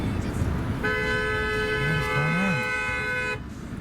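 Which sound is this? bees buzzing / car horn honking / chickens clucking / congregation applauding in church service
car horn honking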